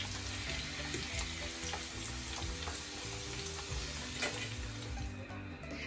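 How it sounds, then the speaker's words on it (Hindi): Chicken nuggets deep fry in hot oil with a quiet, continuous bubbling sizzle and small crackles, heard alone at low level. "इसी तरह से मैं बाकी के भी फ्राई कर लेती हूँ"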